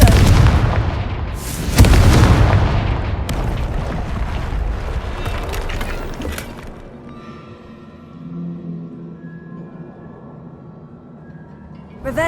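In Hogwarts Legacy, a Confringo explosion spell bursts with two heavy booms early on, followed by a long rumbling roar of debris that gradually dies down into quieter game ambience.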